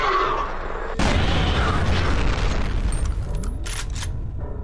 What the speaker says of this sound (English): Those grenades are weak, dude.